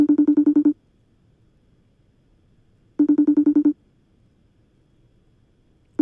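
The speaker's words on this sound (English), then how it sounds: "I take out my phone. FaceTime her." A phone rings out on a FaceTime call, two clear bursts of rapid pulsed ringtone tones separated by a couple of seconds of near silence, with a third burst starting at the end.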